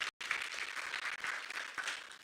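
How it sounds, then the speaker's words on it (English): Audience applause at a film expo, a steady wash of many hands clapping with a brief dropout near the start, then continuing evenly at moderate level. "Can we please give him another round of applause?"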